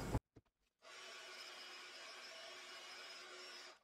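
An electric dryer drying paint on a mixed media board, starting after a few brief knocks: a steady, even whirring hum that runs without a break to the end, alone and fairly faint.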